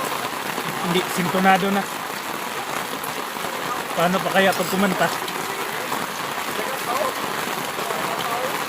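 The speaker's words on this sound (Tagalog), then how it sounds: "Lakas talaga ng ulan guys." Heavy rain pours steadily throughout, a dense hiss under people talking close by.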